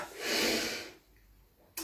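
A single sharp nasal sniff from hay fever, close and breathy, followed by a quiet pause and the start of another brief inhale.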